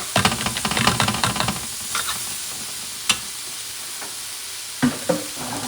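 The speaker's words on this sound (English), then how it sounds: "Going to mix everything together." Sofrito and beans stirred together in a pan for wild boar rice, with a burst of busy spoon scraping and sizzling at first, then sparser sharp clinks and scrapes over a low, continuous fry.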